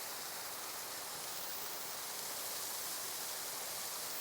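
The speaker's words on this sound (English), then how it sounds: "I just wanted to show you the bonus waterfall." A small waterfall in Austria, just below a larger one, gives a steady, loud broadband rush of falling water that holds constant with no break and no voices.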